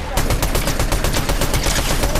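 Rapid automatic gunfire rattles in Fortnite, a fast, loud string of evenly spaced shots bursting nonstop for a couple of seconds, close and dominant with no pauses.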